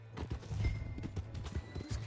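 Horse hooves clip-clop at a steady walking rhythm in Red Dead Redemption 2, fairly soft and close, with a low hum of ambient game sound underneath.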